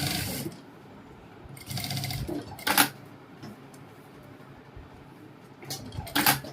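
A sewing machine stitching a princess-cut blouse runs in several short, close bursts of rapid mechanical clatter, separated by quieter pauses, with no talking over it.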